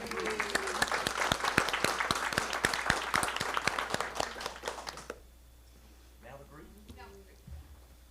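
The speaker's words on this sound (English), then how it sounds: "Let's give our students and teachers one more round of applause" Audience at a school district board meeting applauds students and teachers, including a district literacy teacher of the year, with dense clapping for about five seconds before it stops abruptly and a voice speaks.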